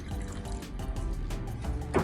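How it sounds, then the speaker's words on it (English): Vinegar is poured slowly into a beaker, a soft, steady trickle of liquid with faint splashy flutters, fairly quiet and unaccompanied by speech. "taking our vinegar and placing it into our beaker"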